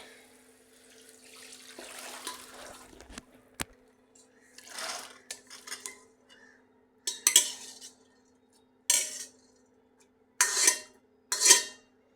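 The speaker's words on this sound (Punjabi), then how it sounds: "ਹੁਣ ਆਪਾਂ ਇਹਦੇ ਵਿੱਚ ਚਣੇ ਜਿਹੜੇ ਪਾ ਦਾਂਗੇ" Black chickpeas go into a tadka in a cooking pot and are stirred, giving intermittent metallic clinks and scrapes in short bursts separated by quiet gaps, with no voices.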